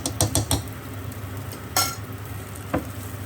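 Chili frying in hot oil with salt gives a close, steady sizzle, with several sharp metallic clinks of a spoon against the pan near the start and a couple more later, and no talking.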